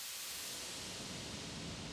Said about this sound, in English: This is my new thing that I'm into, is really soft white noise, which is all the frequencies